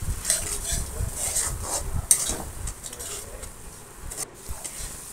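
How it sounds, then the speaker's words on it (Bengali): A ginger-garlic spice masala with salt is stir-fried in a pan: a gentle ongoing sizzle with frequent scraping and clinking of a metal spoon against the pan, close by. "দিয়ে দিচ্ছি স্বাদ মতো নুন, দিয়ে আমি মশলাটাকে কষিয়ে নিচ্ছি"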